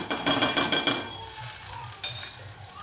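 Ginger garlic paste goes into onions frying in a pan, and a spoon stirs it with quick scraping clinks and a soft sizzle, first busy and then quieter with a couple more stirs.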